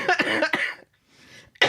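A quick burst of several harsh coughs close by, a brief pause, then another cough starting at the very end.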